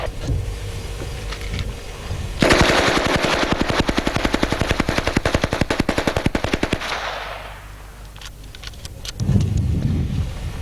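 A JD Jones SSK machine gun fires one long, loud, rapid automatic burst lasting several seconds, then cuts off into a fading echo before a few fainter sounds.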